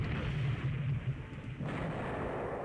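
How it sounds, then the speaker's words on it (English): Torpedoes strike an enemy warship in the naval strategy game Rule The Waves 3, a low, rumbling detonation followed by a sustained dull roar, heard alone without talk. "Oh, enemy ship unidentified is hit by torpedoes."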